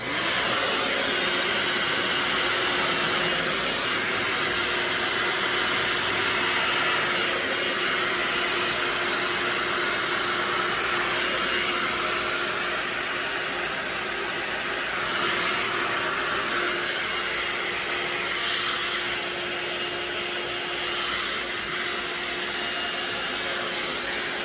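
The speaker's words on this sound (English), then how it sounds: "I'm using my Artist Series Samvia blow dryer with his diffuser, putting it on high" An Artist Series Samvia blow dryer with a diffuser, set to high, gives a steady, loud airy roar with a hissing whine that runs unbroken throughout and eases slightly toward the end.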